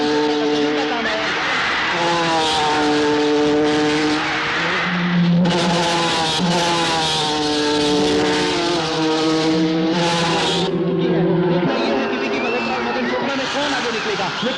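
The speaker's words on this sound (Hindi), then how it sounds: "अपनी कार पर पूरा नियंत्रण रखते हुए दाहिनी ओर आगे निकलते हुए मदन चोपड़ा को पीछे" Race cars roar past during a film's on-track race scene, engines whining and shifting pitch continuously while an excited commentator talks loudly over them throughout.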